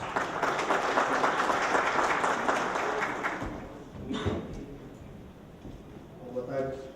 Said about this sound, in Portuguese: recebe o carinho e os aplausos de todos